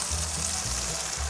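Onions browning in a pan around corned beef, giving a steady, close hiss of frying fat that runs without a break.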